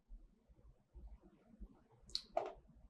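A computer mouse clicks on an online store's add to cart button, two faint quick clicks close together near the end over a soft low background hum.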